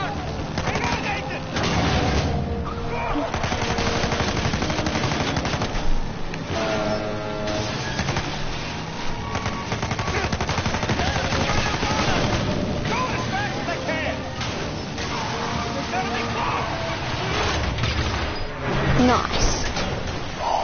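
Video game chase with gunfire, sustained loud bursts of shots mixed with roaring vehicle engines and clattering action noise, dense and continuous throughout.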